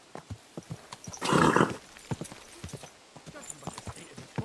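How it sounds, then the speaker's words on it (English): Horse in the medieval video game Kingdom Come Deliverance 2 gives one loud, close neigh amid a steady run of clip-clopping hoofbeats. "Easy, good horse."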